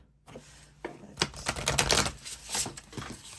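Tarot cards riffle and flutter in a quick burst of crisp, dense clicks while being shuffled, building then tapering off, close and fairly quiet.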